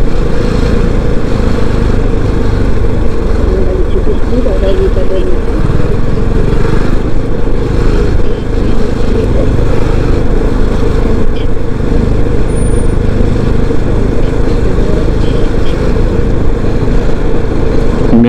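Continuous loud traffic rumble with motorcycle engines droning steadily nearby as they ride along the roadside, a dense unbroken road noise.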